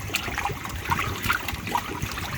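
Small scattered splashes and plops on water as hungry fish feed in an aquaponics tank, several quick light hits in a row, close by over a soft watery background.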